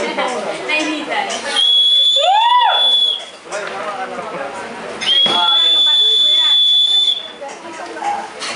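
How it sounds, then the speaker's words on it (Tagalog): A whistle is blown hard at an office Christmas party, giving two long, shrill, steady blasts amid loud chatter and voices. "Ang ingay pala nitong pito na to."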